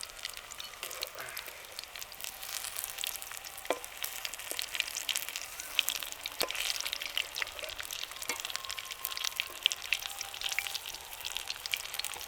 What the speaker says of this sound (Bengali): ও আরেকবার তো ভাজবো, দুবার ভাজতে হবে